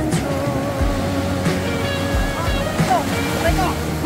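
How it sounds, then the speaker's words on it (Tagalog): Ocean waves wash and slosh around a boat in a continuous rushing surge, with a motor droning beneath and people talking over the water. "Buti lumakas yung alon."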